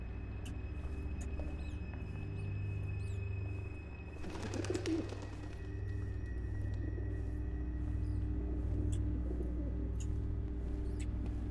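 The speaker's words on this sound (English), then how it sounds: "This is where all the birds come out of." Birds coo and flutter in the video game Observer, with a brief burst of wing flapping in the middle over a steady low hum and faint scattered chirps, and no speech.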